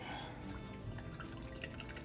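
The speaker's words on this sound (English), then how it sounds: "I'm using acrylic, so I just use water. I splash it up real good." An acrylic paintbrush is swished and rinsed in a cup of water, making close, quiet splashing and dripping sounds throughout.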